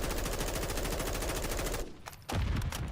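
Full-auto gunfire from a rifle in the Modern Warfare 3 video game, sprayed into a wall as a dense, loud continuous burst that cuts off briefly before a second burst starts.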